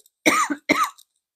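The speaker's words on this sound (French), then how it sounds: "Tu excuseras, je tousse, j'arrête pas la vidéo." Two sharp coughs in quick succession, close and loud, with silence around them.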